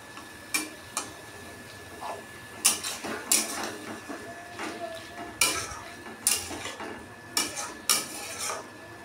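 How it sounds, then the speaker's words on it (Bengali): Loitta fish being stirred with spices in a pan: a spoon scrapes and clinks against the metal in irregular, close taps and scrapes, over a faint sizzle. "তো মাছটা দিয়ে এবার আমি মশলার সঙ্গে পুরো মিশিয়ে দেব।"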